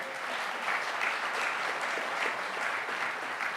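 Applause from a gala audience at an annual charity celebration in New York, a steady, moderately loud wash of clapping hands lasting a few seconds with no one speaking over it.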